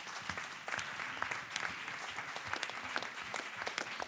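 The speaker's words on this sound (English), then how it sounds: "let's have a clap hands for these amazing women" A crowd claps for a group of women at a PES Council gathering, a faint, continuous patter of many hands heard from a distance, steady throughout with no voices over it.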